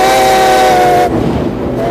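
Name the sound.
steam train whistle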